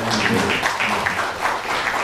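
An audience at a western show in an 1880 town applauds after a song, a dense, loud burst of clapping that carries on steadily for about two seconds.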